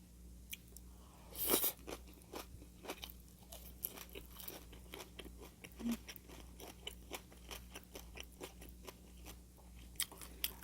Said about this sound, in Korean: 오늘은 김밥과 비빔만두를 먹도록 하겠습니다